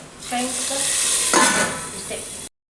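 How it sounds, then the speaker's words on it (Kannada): Garlic tempering sizzling in hot oil in a pan for a South Indian sambar, a bright steady sizzle with a clink of a utensil and a surge as something stirs into it before cutting off abruptly. "ಜೊತೆ ಸ್ವಲ್ಪ ಬೆಳ್ಳುಳ್ಳಿ ಒಗ್ಗರಣೆ ರುಚಿ ಹಾಕೋದು"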